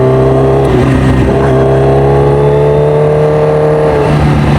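A Kawasaki Ninja H2R, a rare 326 hp supercharged motorcycle, revs up with the throttle. The engine hums loud and steady, its pitch rising and falling in smooth sweeps, with no voices.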